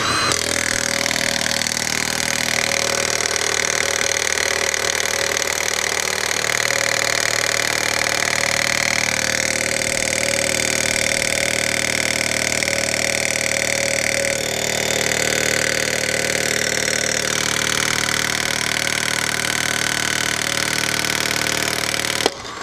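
A Milwaukee M18 2763-20 impact wrench hammers on a cylinder head bolt in one long, loud, continuous rattling burst, ending with an abrupt stop.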